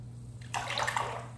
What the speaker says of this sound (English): Just gonna warm it up there a little bit. Swirl in the sink.